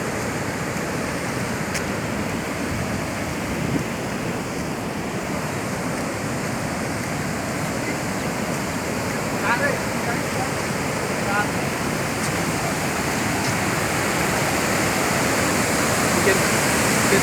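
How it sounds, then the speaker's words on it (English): Chitrakoot waterfall on the Indravati river in Chhattisgarh, swollen by the monsoon, roars as a steady, dense wash of falling water that grows slightly louder toward the end, with a voice speaking over it. "You can see the beauty of Chitrakoot waterfall here."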